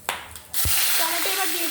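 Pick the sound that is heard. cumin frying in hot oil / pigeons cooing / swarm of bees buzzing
cumin frying in hot oil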